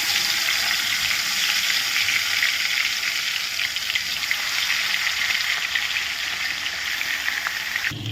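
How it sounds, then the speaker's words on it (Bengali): Bhola fish frying in hot oil, a steady, loud, bright sizzle that holds evenly throughout with no talking. "এখন হচ্ছে মাছটা ভেজে রাখছি এই যে ভোলা মাছ ভোলা মাছটাই হচ্ছে এখন ভেজে রাখবো তো তেলও গরম হয়ে গেছে"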